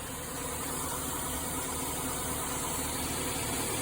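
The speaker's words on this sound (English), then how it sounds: "You can hear the car running." A Lexus GS430 engine hums steadily, an unbroken even rumble and hiss, idling nearby.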